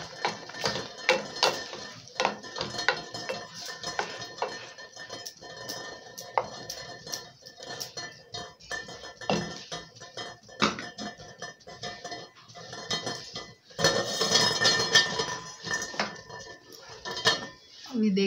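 A spoon scrapes and clanks steadily against a cookware pot as vegetable masala of tomato and onion paste is stirred, dense metallic clinks and rattles running throughout with a louder burst near the end.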